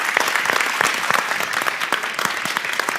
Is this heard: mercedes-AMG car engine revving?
no